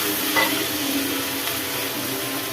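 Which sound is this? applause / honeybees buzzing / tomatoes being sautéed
tomatoes being sautéed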